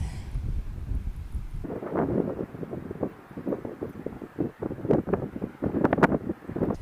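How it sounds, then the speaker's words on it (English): Wind on a Cornish coastal headland buffets the microphone in loud, irregular low rumbling gusts that swell and drop throughout. "Wind is wobbling the camera."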